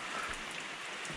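Rain falling outdoors near a lumber edger, a dense, steady hiss of drops with no breaks, fairly close and with no other sound.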